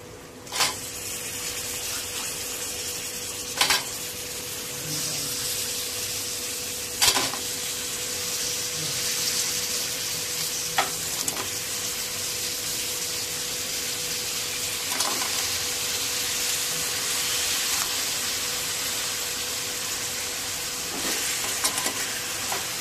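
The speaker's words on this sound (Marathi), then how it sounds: "आता यामध्ये खेकड्या टाकून घेऊया।" Crabs sizzle steadily in hot oil while being stirred, with a few sharp scrapes and knocks of the spoon against the pan breaking through the constant frying hiss.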